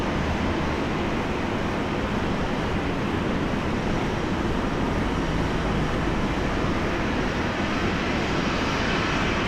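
A Fokker 100 airliner in Alliance livery at Brisbane airport gives off a steady, loud broadband jet roar that holds level throughout, with a wind-like wash and no talking.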